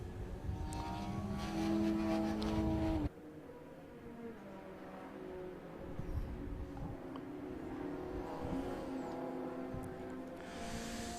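Race cars, including a Mazda and a Honda Integra, on the Silverstone GP circuit: a loud engine roar builds and cuts off sharply, then distant cars hum faintly with a rising drone near the end.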